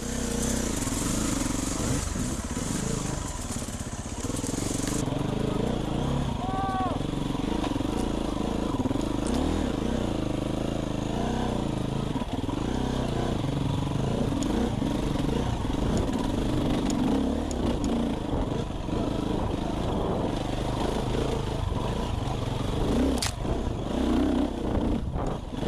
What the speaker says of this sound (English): Can feel those bikes heavy, eh?